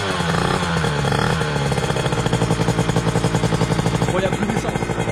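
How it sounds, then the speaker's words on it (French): A Derbi DRD LTD motorcycle with a 70cc kit idles loudly up close on its first start, a rapid, rough two-stroke putter with a steady pulsing rhythm. "Premier démarrage de la moto"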